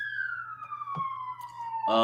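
A police siren wails in a slow descending tone behind voices during a talk show, fairly prominent, with a louder burst of sound at the end.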